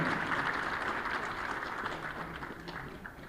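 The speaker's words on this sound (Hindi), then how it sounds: "तालियों से स्वागत कीजिए" Dense applause from a crowd at an official appointment-letter ceremony, a steady wash of many hands clapping that fades slightly toward the end.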